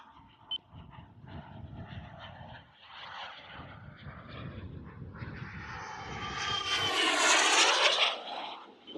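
A CARF Models Rebel Classic RC jet makes a speed run on its first flight, its turbine roar building from distant to a loud, close, rushing whoosh as it passes near the end.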